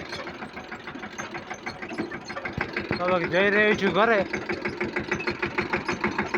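A tractor engine chugs steadily while pulling a trailer loaded with crushed fodder, its rhythmic idle-like pulses continuous and close, growing briefly louder midway, with someone talking over it.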